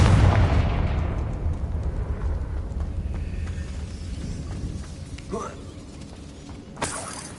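A Confringo spell explosion in Hogwarts Legacy bursts loudly at the start and rumbles away over several seconds, with a couple of smaller cracks and pops following later.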